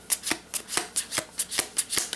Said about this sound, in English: So we're going to shuffle a few times.